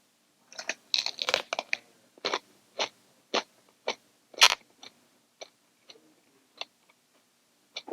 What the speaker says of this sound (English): Did the mic pick up that crunch?